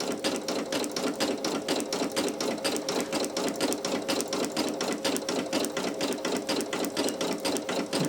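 A Brother PE800 embroidery machine sews a satin stitch on a towel held down with stabilizer, a fast, even mechanical stitching rhythm that runs continuously and close by for eight seconds.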